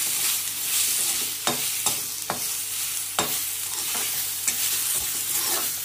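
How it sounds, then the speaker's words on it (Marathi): Capsicum masala stir-fried in a little oil in a pan, a continuous soft sizzle with several distinct scraping strokes of a spoon against the pan spaced irregularly throughout, close by and without talk. "आता हे सगळं व्यवस्थित भाजून घ्यायचं।"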